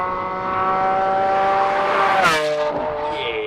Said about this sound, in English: here it is, my 2015 Lamborghini Aventador